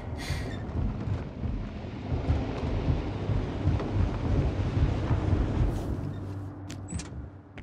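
A lightning storm in the sci-fi video game The Invincible, heard as a steady, dense low rumble of rolling thunder with wind-like noise throughout, easing slightly toward the end, with a few faint sharp clicks.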